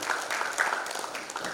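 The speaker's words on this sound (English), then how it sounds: "Ladies and gentlemen, a very big round of applause." Audience applause at an urban-planning panel discussion on digital, smart and safe cities in Guwahati, a steady wash of clapping held for the whole moment with no voices on top.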